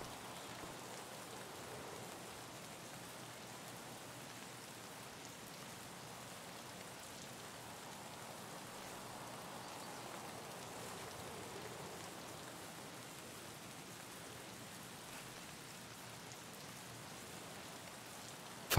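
Rain in the video game Escape from Tarkov, a soft, continuous hiss of falling drops and rain on surfaces that stays steady and fairly faint all the way through, with no voices.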